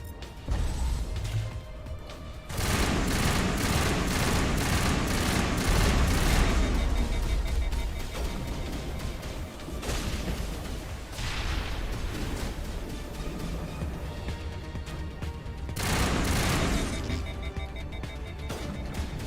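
Sustained gunfire crackles through a Mass Effect firefight, dense loud bursts with several sharp surges and brief lulls over a long stretch, no clear talk.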